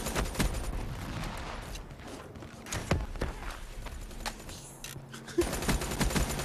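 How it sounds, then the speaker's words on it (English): Turret fire in a Call of Duty game, a sustained rattle of automatic gunfire with heavier thumps scattered through, moderately loud and continuous with no talk. "That's a turret! It's hurting everybody."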